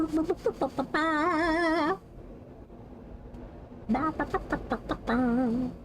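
A man imitates a chicken with his voice, giving short clucking bursts and drawn-out wavering squawks, close and fairly quiet, in two rounds separated by a brief pause.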